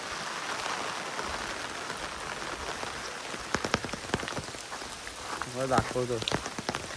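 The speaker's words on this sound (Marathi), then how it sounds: "आणि हे बघा पाऊस पडतोय" Heavy rain falls steadily across a village, a dense hiss throughout with scattered sharper drip impacts, while someone talks over it toward the end.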